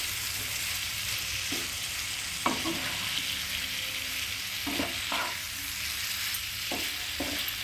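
Crushed cardamom stirred in a hot frying pan: a steady loud sizzle of frying throughout, broken by a few light utensil scrapes and taps, close up with no voices.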